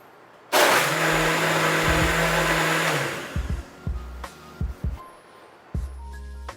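Blender whirring loudly while blending a purple sweet potato frappe, starting abruptly and running steadily for about two and a half seconds before stopping, followed by a few short clunks and knocks.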